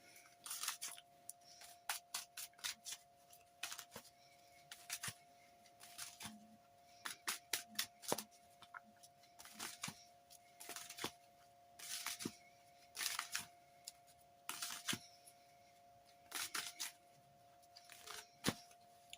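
Tarot cards handled and shuffled close up in a quiet room, with repeated bursts of rapid riffling and sliding separated by short pauses and a faint steady hum underneath.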